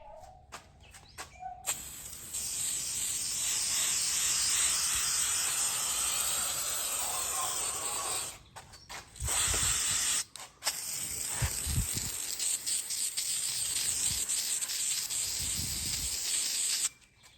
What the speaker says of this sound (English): Time to start spraying.